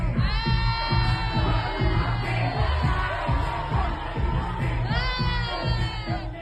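Crowd at a rap performance whooping and yelling in a dense, steady roar, high cheers swelling twice over a low rumble of voices.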